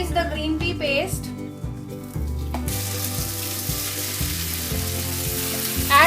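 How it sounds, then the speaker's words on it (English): Green peas and green pea paste go into hot oil with spluttering cumin seeds. A loud, close sizzle follows while a voice speaks and music plays along underneath. "Once the cumin seeds splutter, add the peas, the green pea paste."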